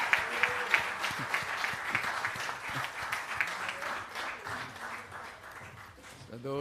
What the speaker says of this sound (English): Can we have a resounding round of applause for our legacy partners, please?